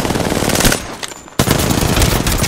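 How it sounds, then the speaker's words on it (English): Rapid automatic gunfire from the Apex Legends video game bursts loud and continuous, cuts out briefly to a quieter gap, then resumes just as dense and close. "I am taking fire, friends."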